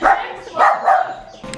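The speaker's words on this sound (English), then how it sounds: "barking because the chicks are in there" A dog barks three times in quick succession, close and loud, with a faint yip at the end.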